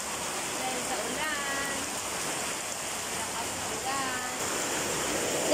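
Steady rushing typhoon rain pours down, a dense, even wash of water noise with faint birdsong and distant voices behind it.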